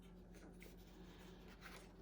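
A green marker draws a plant stem on paper, giving a soft, faint and continuous scratchy rub with no talk.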